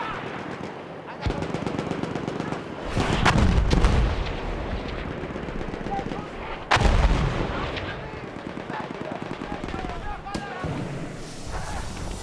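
Mortar and gunfire in a multiplayer team deathmatch game: heavy booming impacts around three and seven seconds over a steady bed of distant shots and battle noise, with a commentator's voice running underneath.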